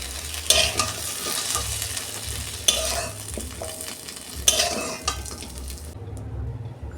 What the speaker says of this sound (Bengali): তেল দিচ্ছি আমি কড়া, একটা শুকনো লঙ্কা ফোড়নে দিচ্ছি,